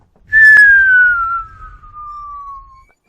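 A voice imitates a kettle-like whistle heard from outside a gym: one long, loud, high whistled tone that slides steadily downward in pitch for about two and a half seconds, then stops, with no talking.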